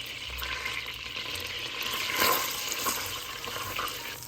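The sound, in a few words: butter sizzling as it browns in a pan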